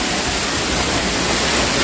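Neer Waterfall in Rishikesh, a loud, steady roar of rushing, falling water that fills the whole clip with dense, unbroken noise and no talk.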